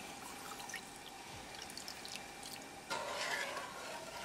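Water is poured into a kadai of sugar to start a sugar syrup for coated crackers. The faint trickle and splash get louder near the end, and no one speaks.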